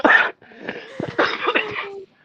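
A woman coughs and clears her throat in a few harsh, close bursts, with short pauses between them and no speech.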